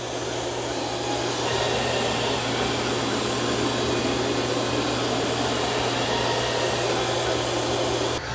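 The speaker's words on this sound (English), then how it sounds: "the Eufy is all done mopping and vacuuming" A Eufy X8 Pro robot vacuum and mop working across a floor, giving a steady, continuous whirring motor drone with a low hum throughout, fairly close and unchanging until a brief drop at the very end.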